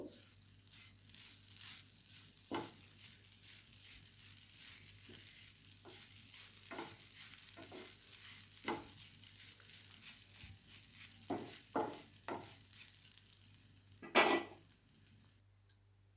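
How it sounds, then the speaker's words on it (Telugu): Grated coconut dry-roasts on a flat pan while a spatula stirs it, making a faint steady sizzle with scattered sharp scrapes and taps, and a louder rattling scrape toward the end. "ముందుగా మనం పెనం తీసుకుని కొంచెం కొబ్బరి వేసుకుని కొంచెం పచ్చివాసన పోయే వరకు కొద్దిగా వేగనివ్వాలండి"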